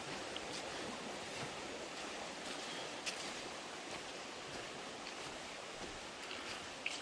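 Big Lost Creek rushing beside a hiking trail, a steady broadband wash of flowing water heard up close, with a few faint clicks over it.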